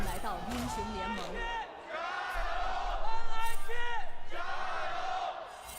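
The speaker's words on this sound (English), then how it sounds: "So, crowd chanting done for a second or two here." Arena crowd at an LPL esports playoff match between FPX and NIP chants and yells in swelling rhythmic waves, loud and roomy, with a commentator talking over the noise.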